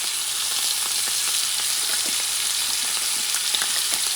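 A thin steak sizzles in a pan as its juices are basted around it with rosemary, a loud, continuous bright frying hiss with small crackles throughout and no speech.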